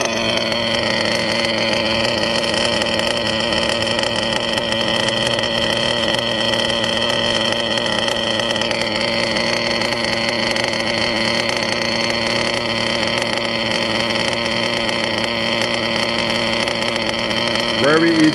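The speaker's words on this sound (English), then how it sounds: "Very easy motor to get going to break in." A Nova .21 GT G9R nitro engine runs continuously during break-in, a loud, steady high-pitched buzzing whine that holds a constant pitch and shifts slightly near the end.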